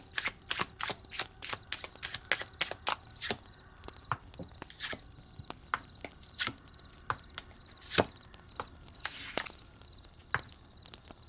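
Tarot cards being shuffled and drawn, a long run of crisp slaps and riffles with irregular gaps, close and clear, no voices over them.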